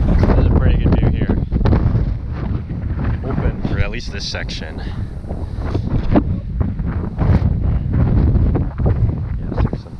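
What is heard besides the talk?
wind blowing on Mount Greylock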